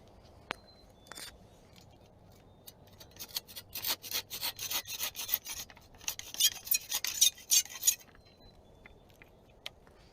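Hand pruning saw or shears cutting through a tree branch while pruning, a quick run of rasping strokes that grows louder then stops, with faint background noise.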